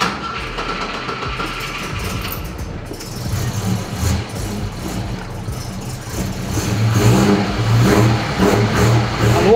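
An old car that sat 30 years in a barn is started and revved, its engine rumbling loudly up close, then climbing in pitch in repeated rising revs.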